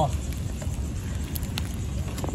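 An outdoor bonfire burns while fish roasts on its embers, giving a steady, noisy rushing hiss scattered with faint crackles and pops throughout.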